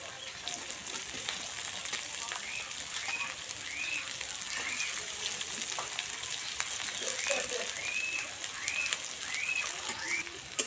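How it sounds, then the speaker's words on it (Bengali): Chopped onion, garlic, green chili and ginger fry in a pan with a soft, steady sizzle, a continuous crackling hiss at low volume with occasional faint chirps in the background. "পেঁয়াজ রসুন লঙ্কা সব ভাজা ভাজা হয়ে এসছে।"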